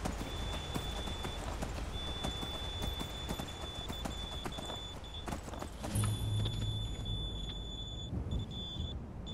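Horse hooves clip-clop steadily in the Skyrim video game, a continuous close walking rhythm with a faint high tone and a low rumble joining partway through.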